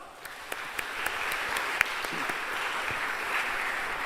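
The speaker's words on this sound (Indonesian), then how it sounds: "Mari kita berikan aplaus." A church audience applauds during a youth Christmas homily, with steady, fairly close clapping from a sizable crowd sustained throughout and no talk over it.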